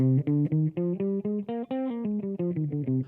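A single melodic instrument plays a stepwise scale in a minor key, about a dozen distinct notes rising then falling, clear and close with no voices.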